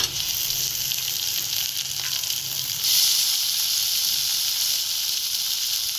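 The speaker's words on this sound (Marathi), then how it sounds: "छान असं याला फ्राय करून घ्यायचं कलर येऊपर्यंत" Onion and tomato fry in a pan with a steady close hiss and crackle, the sizzle rising a little louder partway through and continuing without talk.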